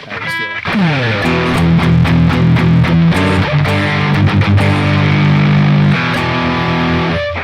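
Loud distorted electric guitar, a Strandberg Boden through an amp modeler, plays chords and sustained notes with heavy effects, continuous and up close.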